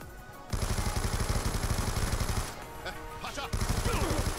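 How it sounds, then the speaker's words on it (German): Rapid automatic gunfire in Call of Duty Black Ops 2, a close burst of quick rhythmic shots, a short pause with faint clatter, then another burst starting up. "Ich schieße auf einen, ne?"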